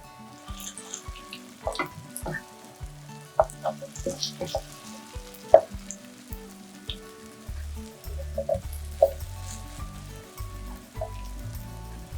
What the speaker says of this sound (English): I'm doing the deeper oil to cook a little faster.